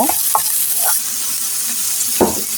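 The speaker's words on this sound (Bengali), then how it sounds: "পেঁয়াজ রসুন ক্যাপসিকো সবগুলি আমি সুন্দর করে একটু" Onion, garlic and capsicum fry in a frying pan with a loud, steady, close sizzle; occasional spatula scrapes and stirs stand out above the hiss.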